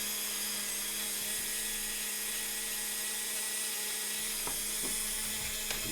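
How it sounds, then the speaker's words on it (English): A small drill bores a hole into the arm of a Marvel Legends or Revoltech action figure during a toy repair, giving a steady high-pitched whine that runs the whole time with a few brief clicks near the end. "I'm going to go ahead and drill a hole in the other arm"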